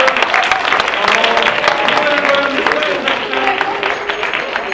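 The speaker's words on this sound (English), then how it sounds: "Keep that applause going." Loud, sustained audience applause fills a game show studio, a dense steady wash of clapping with a few voices mixed in throughout.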